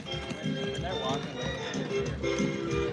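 Horse hooves clip-clop in a steady rhythm beneath people talking nearby.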